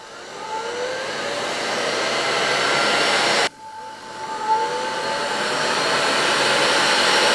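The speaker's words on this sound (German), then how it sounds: "den Schrumpfschlauch drüber schieben und den Schlauch festschrumpfen" A heat gun blows a steady, loud airy roar while shrinking heat-shrink tubing over a soldered cable, with a brief dip midway before the rushing hiss resumes.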